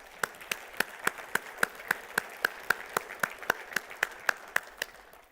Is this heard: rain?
no